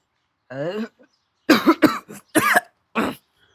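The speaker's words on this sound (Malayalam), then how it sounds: "ചുമക്കണ് വയ്യാണോ നിനക്ക്" A short burst of a person coughing, several separate harsh bursts close by, with brief silences between them.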